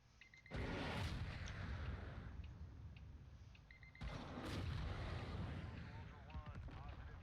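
A missile strike in a video game hits with two heavy, booming blasts a few seconds apart, each followed by a long rumbling roar, loud and close.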